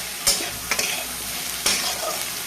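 Onion and bitter gourd fry in fish oil in a pan, a steady sizzle broken by a few sharp scraping stirring strokes, close and alone.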